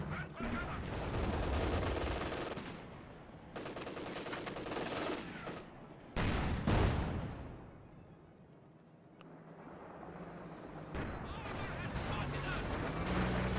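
MG34 machine gun fire in Company of Heroes 2: sustained rattling bursts mixed with other battle gunfire and explosions, steady through the stretch with a sharp blast partway, under a commentator's voice.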